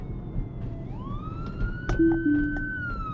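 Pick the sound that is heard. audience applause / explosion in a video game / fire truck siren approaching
fire truck siren approaching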